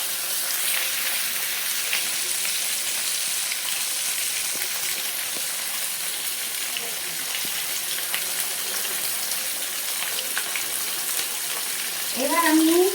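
Boiled potatoes and tomatoes hit hot oil for a Bengali vegetarian potato dish, making a steady, close hiss of frying that runs throughout, with a brief louder scrape near the end.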